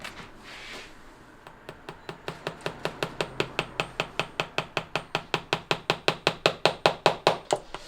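A rapid series of sharp metallic taps, steadily speeding up and growing louder, a hammer striking a shoe heel in a cobbler's workshop, with no talking.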